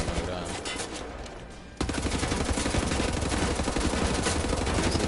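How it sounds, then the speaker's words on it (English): Rapid automatic machine-gun fire in the Wolfenstein video game, starting quieter and then jumping louder into a dense, continuous stream of shots that runs to the end, with no talking. "We're gonna use the regular machine gun."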